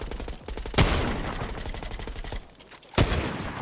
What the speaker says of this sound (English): SMG kills something with 1 HP.